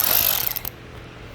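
A repaired Milwaukee 1/4 inch ratchet gives a quick, close burst of clicking that fades within about a second, with no voices.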